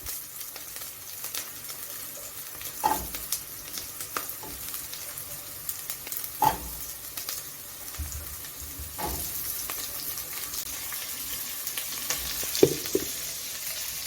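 Carrots tumble into a pan of sautéing onions, raising a steady close-up sizzle broken by occasional sharp scrapes and clinks of stirring.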